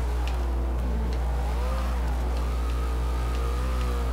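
A Porsche accelerates and drives past in Forza Horizon 2 during an offroad hill-climb race, engine revving and pitch sweeping up and down over a steady low hum, with no talk.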